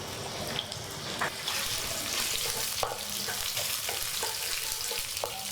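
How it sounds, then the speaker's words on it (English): Sliced onion drops into hot vegetable oil in a pan and sizzles steadily, with a constant frying hiss broken by occasional clicks and stirring scrapes. "The oil is ready. Let's add the onion."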